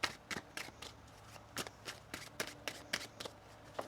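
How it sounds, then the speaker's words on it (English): Tarot cards are shuffled in quick, crisp riffles, a dozen or so sharp papery snaps coming in an irregular rhythm, close and fairly quiet with no talk over them. "One more shuffle here."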